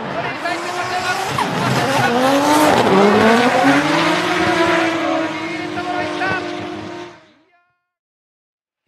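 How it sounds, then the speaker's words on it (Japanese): Drift cars roar through a D1GP battle run, their engines screaming loud and sustained with tire squeal for about seven seconds, under commentary, before the sound cuts off abruptly. "エンジン音が高鳴っていく"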